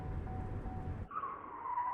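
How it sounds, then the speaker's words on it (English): A car brakes hard in a video game, with a low rumble cutting off into a sharp tire skid that squeals steadily to a stop, alone and fairly close. "Slam on the brakes."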